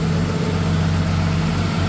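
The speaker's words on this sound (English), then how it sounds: "Engine. Idling, 930, 940." A Porsche 911 engine with CIS fuel injection idles steadily at around 930 to 940 rpm, a constant low hum with no talk over it.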